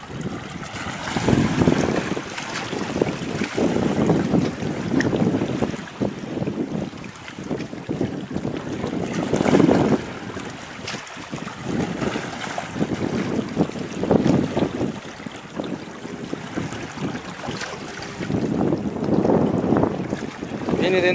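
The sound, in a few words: gusts of wind around an RC model sailboat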